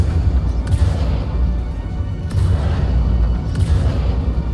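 Ship weapons on an Origin 400i fire in a video game, a loud, continuous barrage of heavy booming blasts with stronger bursts recurring every second or two over a deep rumble.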